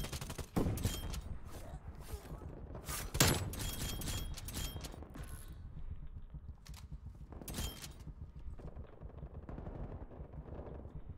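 Gunfire in a shooter video game rattles off in bursts of rapid automatic shots, sharp and fairly close, with gaps between volleys and a few single cracks scattered through.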